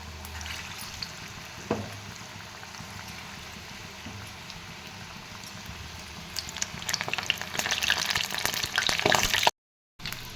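Medium-sized water pakodi fritters frying in hot oil over a medium gas flame: a steady, close crackling sizzle that turns denser and louder toward the end, with no talking.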